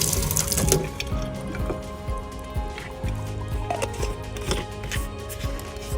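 Water from a sink tap runs into a dusty plastic bottle being cleaned for a kids' bottle aquarium craft, a steady close splashing stream with small knocks and clinks.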